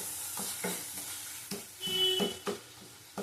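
Masala with poppy seed paste is sautéed in a pan for a catla fish curry, giving a low sizzle broken by intermittent scraping stirs from a spoon, fairly faint and with no talk.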